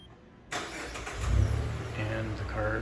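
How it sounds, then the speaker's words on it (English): A 2019 Mazda 3 engine starting by remote start, the starter cranking abruptly after a quiet moment, then the engine catching and settling into a steady idle nearby. "So the most obvious feature you're going to use is starting the car."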